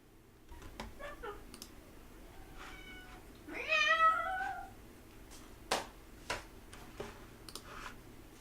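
A cat meows in a drawn-out, rising call in the middle of a quiet room, preceded and followed by soft clicks and brief taps, with faint speech nearby.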